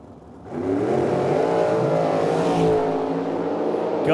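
Drag racing dragsters launching and running down the strip at Medicine Hat, Alberta, a sustained loud engine roar with rising pitch that holds steady for about four seconds, no talk over it.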